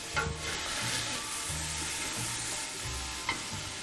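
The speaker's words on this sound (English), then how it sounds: "Give that a stir." A spoon stirs soup in a pot in a steady rhythm of repeated low scraping sweeps over a constant hiss from the heat, heard up close.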